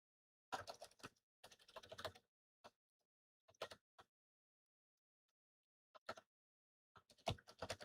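Bursts of typing on a computer keyboard, fast clusters of key clicks separated by silent pauses, close and fairly quiet with no voices.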